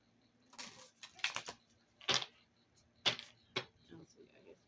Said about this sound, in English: put these two back in and shuffle some more.